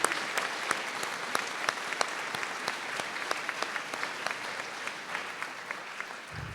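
Convocation crowd at a college graduation ceremony claps for graduates celebrating online, steady applause heard at moderate distance with distinct individual claps popping through the wash.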